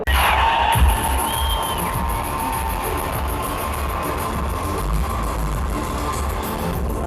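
Tunisian football fans in packed stadium stands before a match against Qatar keep up a loud, continuous roar of cheering and shouting, with scattered whistles and bangs cutting through the dense crowd noise.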